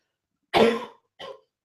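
A single harsh cough followed by a shorter, quieter second cough, close by and otherwise silent.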